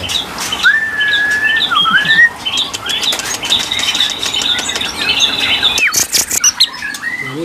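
A songbird kept by a breeder in a small house down a narrow alley, sounding close and loud with repeated chirps, whistled calls and squawks, plus bursts of wing flapping near the end.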